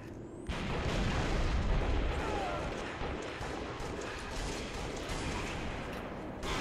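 Rocket launcher blasts and explosions during a Slayer match in Halo Reach on PC form a dense, loud, continuous rumble of booms that kicks in abruptly after a short quieter start and stays heavy throughout.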